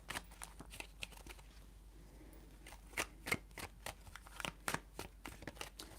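Tarot cards shuffled by hand in a quick series of crisp riffling snaps and flutters, close and fairly quiet, without talk.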